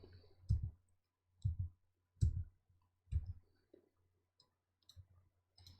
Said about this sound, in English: So now I'm going to press keys